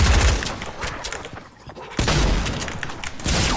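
Rapid gunfire in the Fortnite zombies mode, dense loud volleys of shots with booming impacts, dipping briefly before another burst starts.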